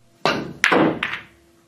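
A Predator BK Rush break cue with a hard phenolic tip strikes a pool ball for a power draw shot, giving a sharp, loud clack followed by two more knocks as balls collide, close and alone.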